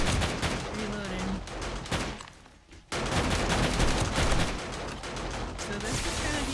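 Rapid gunfire rattles through a blood moon horde night in the video game 7 Days to Die, with dense bursts of shots, a short lull near the middle, then sustained firing resuming loud and close.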